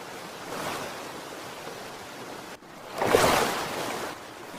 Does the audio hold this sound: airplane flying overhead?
no